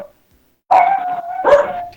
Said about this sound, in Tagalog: Pasaway na aso to.